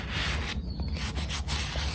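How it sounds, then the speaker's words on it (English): A sanding block rubs around the bottom edge of a glass jar in a steady, close, gritty scrape that keeps going with small surges and no talking. "So I just take this sanding block"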